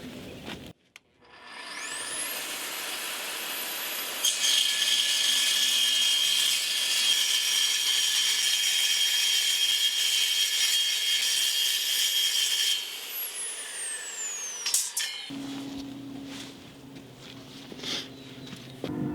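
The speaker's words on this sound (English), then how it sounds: "I'm using my track saw today, and always wear safety glasses and hearing protection because it's a little loud." A track saw cuts aluminum, a loud sustained high-pitched whine with a steady tone that starts after a quiet lead-in, runs for about eight seconds and then winds down into rattling workshop noise.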